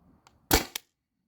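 A Tippmann TiPX paintball marker fires a single sharp, loud pop followed by a quick secondary snap, close by, with quiet between.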